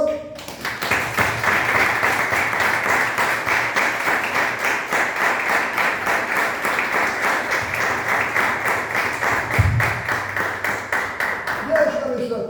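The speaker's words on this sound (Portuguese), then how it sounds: "Então vamos dar uma salva de palmas ao Senhor." Rhythmic, sustained clapping from a church congregation fills the space for about twelve seconds, loud and steady with a unified beat, fading slightly at the end.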